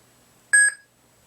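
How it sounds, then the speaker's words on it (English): A Korbanth Duke lightsaber fitted with a Crystal Shard 3.0 board, its button held to switch sound fonts, gives a single short clean electronic beep in otherwise quiet surroundings. "to change the fonts, you hold this to hear a beep."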